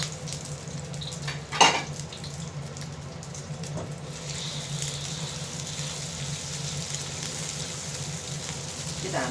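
Eggs stir-fried in a pan for a leek and egg dumpling filling, a soft, steady sizzle with occasional scrapes and clinks of the spatula, quiet and close.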